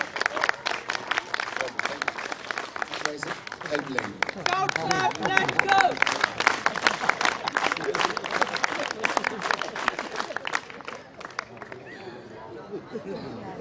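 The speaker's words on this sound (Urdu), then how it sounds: "تو سب ان کے لیے تالیاں بجائیں" An audience at a scout training event claws out a lively round of applause for supervisors on stage, dense clapping throughout with crowd chatter and a voice over it.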